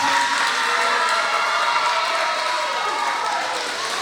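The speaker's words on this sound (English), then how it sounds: "Ms. Johnson, let's give a huge round of applause" A crowd at a final ceremony gives a teacher a big round of applause, a sustained, even wash of many clapping hands mixed with cheering voices.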